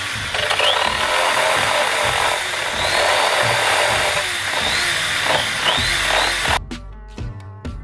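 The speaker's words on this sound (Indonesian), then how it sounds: "dengan bor dan amplas yang bulat tadi" A power drill with a round sanding attachment whirs steadily with a gritty grinding texture while smoothing a plastic motorcycle body panel, then cuts off abruptly, leaving quieter clicks and handling noise.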